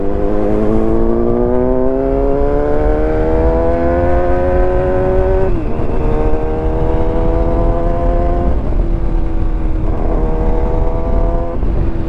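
A motorcycle engine revs during a wheelie, with a rising whine and several sharp rev changes and shifts over about twelve seconds, loud and close, with no talking.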